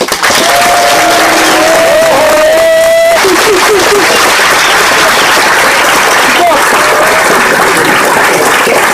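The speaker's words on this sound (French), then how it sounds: "Je vais vous demander d'applaudir Monsieur Jackie" A live stand-up comedy audience applauds and cheers Monsieur Jackie, loud clapping and crowd noise filling the room while a few whistles and shouts cut through near the start and again partway along.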